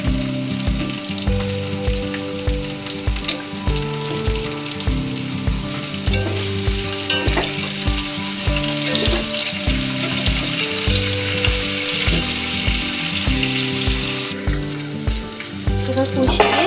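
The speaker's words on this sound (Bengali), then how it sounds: "ভেন্ডি কিছুটা ভাজা হয়ে গেলে ডুমো ডুমো করে কেটে রাখা বেগুনটা দিয়ে দিচ্ছি" Okra and diced eggplant fry in a pan for a Malabar spinach stir-fry, a steady close crackling sizzle with stirring scrapes throughout, fairly loud and continuous with no talking.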